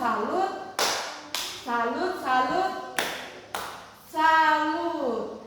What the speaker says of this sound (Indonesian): Tepuk tangan tiga Yositamu